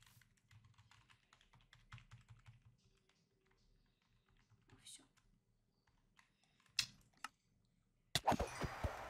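A computer keyboard gives light, rapid clicks of typing, quiet and scattered across several seconds, while someone talks intermittently and a loud burst of game noise hits at the end.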